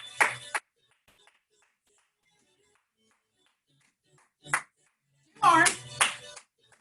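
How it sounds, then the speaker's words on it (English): A few sharp hand claps in a gentle seated and standing yoga class for people with MS, separated by long quiet gaps, with an instructor's voice mixed in. "Now we're going to clap 7 times"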